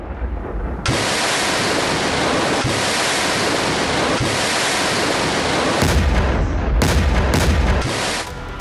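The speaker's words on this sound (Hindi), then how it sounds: "टॉस-2 थर्मोबैरिक रॉकेट लॉन्चर, आप देखिए रॉकेट लॉन्चर के जरिए खतरनाक थर्मोफ्लेयर सिस्टम, जैसे ये हमले एक के बाद एक लगातार जारी है।" Russian TOS-2 thermobaric rocket launcher firing in sustained, loud roaring blasts that merge into a continuous rushing wall of noise, with several sharper bursts near the end and no voices.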